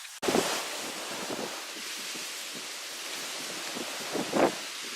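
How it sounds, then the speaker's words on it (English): Gusty wind buffeting the microphone outdoors during a deer hunt in Iowa, a broad continuous rush with louder bursts near the start and end. "It's super windy out."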